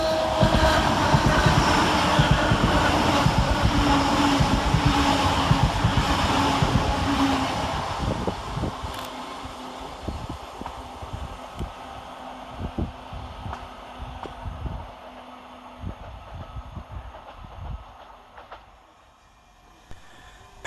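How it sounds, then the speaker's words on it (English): Two coupled class 385 electric units, 385010 and 385034, run through Polmont station on a curve, a loud rumbling pass with clattering wheel beats that fades steadily over twenty seconds into distant rail noise. "Next to pass through the station is 385010 and 385034, working 1P43 from Edinburgh Waverley to Dunblane"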